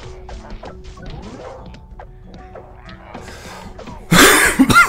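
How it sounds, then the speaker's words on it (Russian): A character in the video game Lumberwhack coughs among game effects, followed by a loud sudden burst of harsh coughing or crashing noise near the end, over quieter rhythmic in-game sounds. "Да какой кашель еще достал уже"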